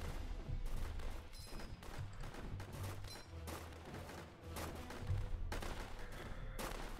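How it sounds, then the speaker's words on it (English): Repeated bursts of machine-gun fire in the World War tower defense game Northend, rapid rattling volleys with booming impacts and distant gunshots layered together, loud and continuous across the whole stretch. "Machine gun. Definitely need the machine gun."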